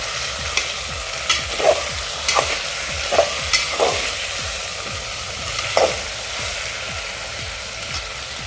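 Mixed vegetables sauté in oil in a pressure cooker over a medium flame, a constant crackling sizzle broken by repeated scraping stirs of a spoon against the pot.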